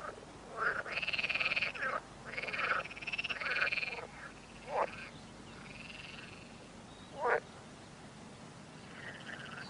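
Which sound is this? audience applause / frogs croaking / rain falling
frogs croaking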